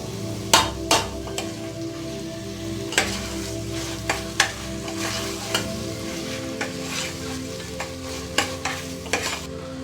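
Mutton pieces are stirred and fried in a pan for a Hyderabadi mutton marag. A steady close sizzle runs throughout, with sharp scraping knocks from the spoon against the pan at irregular intervals and no talking.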